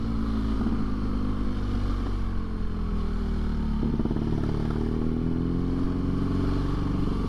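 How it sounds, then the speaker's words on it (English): A BMW motorcycle idles and burbles at low revs, its deep exhaust note steady and close, with slight rises in pitch as the throttle shifts. "I'm not sure what I think about this new sound that this exhaust is making."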